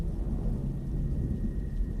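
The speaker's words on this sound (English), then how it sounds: "I was only met with a distant grumble of thunder." Low, continuous rumbling of distant thunder, a steady deep roll with no voices, faint and far off throughout.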